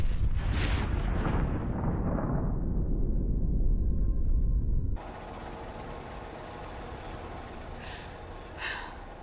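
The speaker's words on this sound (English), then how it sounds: "That beautiful explosion." A huge explosion in Fallout 4 roars loud and close, its rumbling blast slowly decaying over several seconds before it cuts abruptly to a quieter, hissing ambience with a faint thump near the end.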